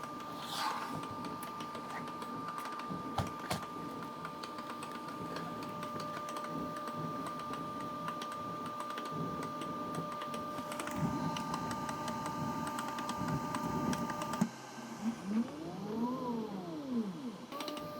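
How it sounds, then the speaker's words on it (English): Qidi Box filament ratchet system on a 3D printer, an irregular series of close, sharp clacks and ticks over a steady motor whine with tonal hums, ending in sweeping motor tones. "Now the clacking noise that we are hearing from the ratchet system, pretty annoying."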